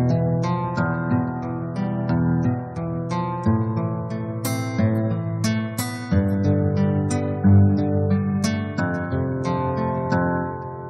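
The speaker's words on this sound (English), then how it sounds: "next one is a combination of a nylon guitar and an acoustic guitar." Synth preset blending nylon and acoustic guitar tones plays a gentle, clean melodic phrase of plucked notes over sustained low chords, close and clear without talk.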